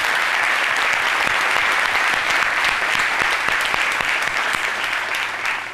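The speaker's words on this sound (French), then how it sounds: "j'invite l'Assemblée à vous acclamer fortement" Sustained, dense applause from an assembly cheering guitarists at a televised midday show, steady and loud throughout with a slight fade at the end.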